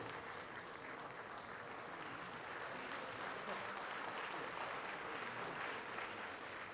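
Audience applause at a regional official language conference, welcoming award recipients; dense, steady clapping from a large crowd, sustained without a break for about seven seconds.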